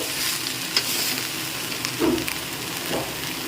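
Banana flower and coconut fry in a pan while being stirred, a close steady sizzle punctuated by a few scraping and clinking strokes of the spatula.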